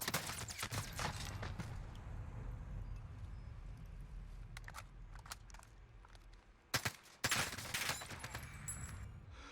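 Rapid AK rifle fire in a shooter video game, with bursts of shots and sharp cracks rising loudest near the end over a steady game background.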